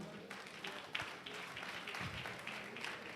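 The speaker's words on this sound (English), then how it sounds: "A round of applause one more time" A lecture audience gives a round of applause, steady dense clapping that holds for a few seconds at moderate distance, fairly faint overall.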